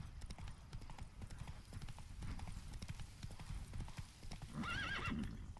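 Roach, Geralt's horse in The Witcher 3: Blood and Wine, clops along at a steady walk, then lets out a loud, close whinny near the end.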